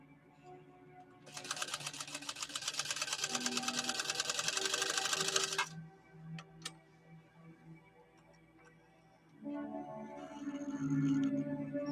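A PFAFF 130-6 sewing machine stitches a zigzag embroidery pattern in a fast, even run of rapid ticking for several seconds, then stops, followed by a few faint clicks and low hum before it starts again more softly.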